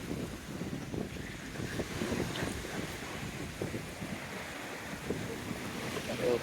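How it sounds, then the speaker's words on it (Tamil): Ocean waves roll and break at Corbyn's Cove beach in Port Blair, Andaman. A continuous surf wash mixes with wind buffeting the microphone, with no clear pauses between swells. "அலை அடிக்கி இங்கே பாருங்க எப்படி தூக்குதுன்னு."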